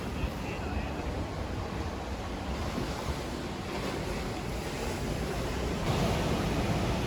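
Ocean surf washes steadily below the cliffs along the Fengbin Skywalk in Taiwan, a continuous broadband roar mixed with wind buffeting the microphone, with no clear individual wave breaks.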